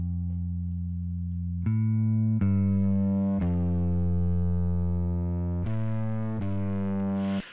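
A soloed synth bass in Reason 10 plays with its saturation fully cranked, giving a series of sustained, buzzy, distorted notes that change pitch every second or so, loud and alone.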